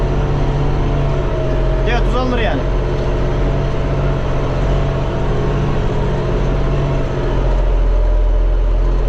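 Close, loud steady rumble of a Deutz tractor engine working a corn field, while someone speaks briefly over it and the engine note drops slightly near the end.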